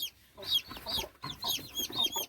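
A small chicken cries out in a rapid run of sharp, high squawks and clucks, loud and close, repeating in bursts with short gaps.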